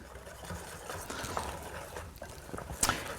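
Spelt flour pancake batter being whisked in a bowl, a faint, steady scraping and swishing with a brief sharper clink near the end.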